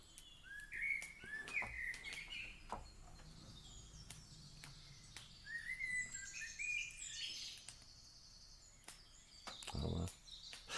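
Several wild birds chirp and tweet in an outdoor setting, with bright rising call phrases repeating across the stretch, fairly close, plus a low thump near the end.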